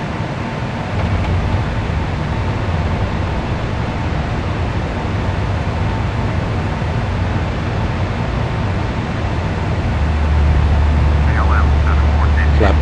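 A PMDG 747-8i jet in a flight simulator climbs after takeoff with a constant broad roar of engines and airflow, growing slightly louder and deeper near the end.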